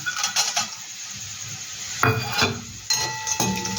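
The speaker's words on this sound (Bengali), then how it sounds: "এই বাদামটা দিয়ে একটু টাইম ভাজবো।" Peanuts fry with browned onions in a pan for masala chira. Short bursts of sizzling come with clattering scrapes and clinks of a spoon against the pan, all close up.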